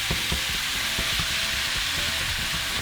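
Small cubes of seasoned meat sizzle and fry steadily in a hot pan, a continuous close crackle with occasional stir scrapes and no voices.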